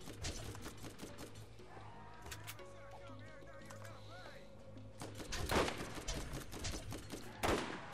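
Sniper rifle fire in the video game Borderlands: a couple of sharp, loud shots ring out near the end over steady game sounds and background music.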